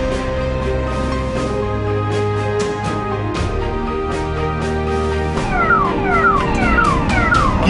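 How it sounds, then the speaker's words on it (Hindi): A loud ambulance emergency siren wails continuously, its pitch sweeping up and down, with traffic noise beneath and no talking. "ये देखिए ये अभी इमरजेंसी सायरन ऑन है।"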